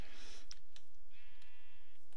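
A sheep in the Minecraft Pixelmon modpack video game gives a short quavering bleat, preceded by a few faint clicks and game sounds.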